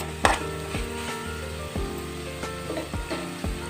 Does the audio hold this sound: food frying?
yes